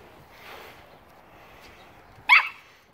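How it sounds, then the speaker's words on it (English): A puppy gives a single sharp yip near the end after quiet, faint whimpery sounds, in an otherwise still room. "Don't be barking at the kitty."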